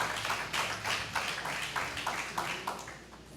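Studio audience at a quiz show clapping for a correct answer, quiet but distinct bursts of hand claps arriving in uneven pulses, with no talk over them.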